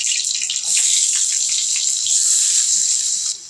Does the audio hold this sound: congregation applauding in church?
no